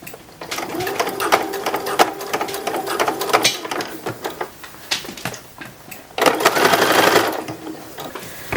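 Sewing machine stitching the hem of a 1910s–1920s style infant wrapper, running in steady bursts of rapid mechanical chatter with short pauses, ending in a louder, faster run.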